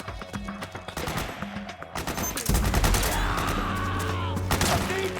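Gunfire in Metal Gear Solid 4: Guns of the Patriots, a dense battle of rapid overlapping shots and bursts that swells louder halfway through, with steady rumble and effects behind it.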